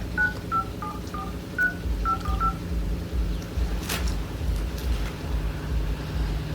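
A telephone number is dialed as a quick run of about eight short keypad tones, close and clear over a low rumbling wind and background hum.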